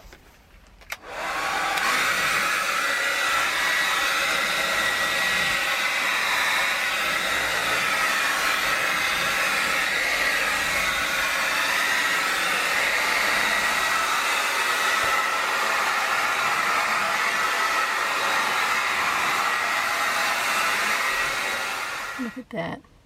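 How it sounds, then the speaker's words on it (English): A hair dryer blows into an RV trailer roof vent screen with a loud, steady whooshing whine for about twenty seconds, then cuts off. "Get your hair dryer."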